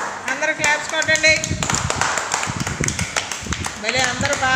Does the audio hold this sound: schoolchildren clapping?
yes